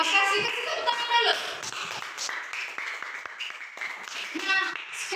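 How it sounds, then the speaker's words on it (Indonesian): Children clap together in a classroom, a loose burst of handclaps mixed with young voices chattering over it. "Kasih tepuk tangan dulu."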